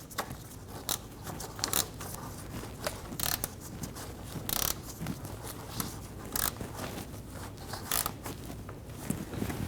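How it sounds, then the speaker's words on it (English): A ratchet snugs down bottom bolts on a 2012-2022 Volkswagen Passat AC condenser, giving rapid clicking bursts and sharp metallic ticks repeated through the clip at close range over faint background noise. "We're going to go through and snug down these 2 bottom bolts."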